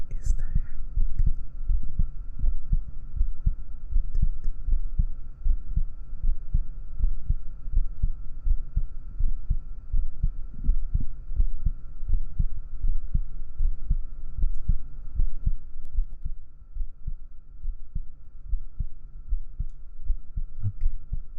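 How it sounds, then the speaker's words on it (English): A steady heartbeat throbs close in a binaural ASMR recording, a low, rhythmic pulse continuing throughout with a faint hum above it. "Is the heartbeat."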